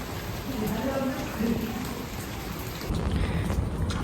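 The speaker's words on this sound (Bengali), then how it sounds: "এখন আবার একটু বৃষ্টি কমছে" Rain falls steadily on a wet rainy day in Bangladesh, with a continuous close hiss of drops on surfaces that swells louder toward the end.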